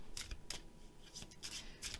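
Tarot cards being shuffled by hand during a reading, giving a series of papery riffling swishes and snaps in quick irregular bursts, fairly close and quiet, with no talking.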